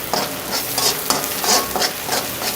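Raw banana pieces fry in oil in a pan while a spoon stirs them, giving repeated scraping strokes over a constant close sizzle.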